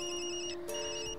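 A mobile phone rings in the video game Tokyo Dark, a repeating electronic ringtone of bright sustained tones, moderately quiet and heard alone.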